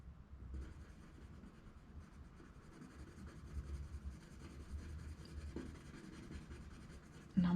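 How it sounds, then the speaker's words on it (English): Colouring in a number on a paper budget tracker for weekly cash envelope stuffing, a soft continuous scratchy rubbing of pen on paper, close and quiet with no talk. "let's get number 1 coloured in"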